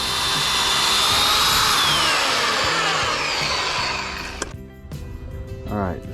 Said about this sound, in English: Still hard pan right there, so I'm going to drill that up